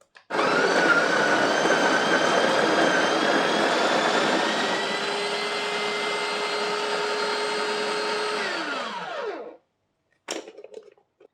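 A coffee grinder set to filter size grinds fresh beans in one loud, continuous whirring run of about nine seconds that winds down as the motor stops, followed by a brief rattle, close up with no talking.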